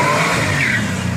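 A fast car's engine revs hard and steadily, loud and close, with a continuous throaty roar and no talking over it.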